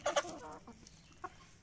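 Kadaknath chickens on a poultry farm, suffering from swollen, watering eyes, give a quick burst of close clucks, then a lone cluck a second later against a quiet background.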